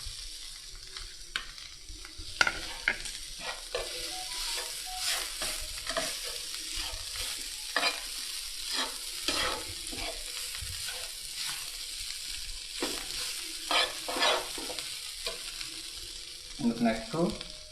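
Potato pieces fry in hot oil with a steady, fairly loud sizzle, while a utensil stirs them in repeated scraping strokes; a few sharper clatters come near the end, and no one speaks.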